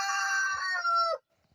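A chicken in a coop built from old barrels gives a loud, close crowing call lasting about a second, then falls quiet.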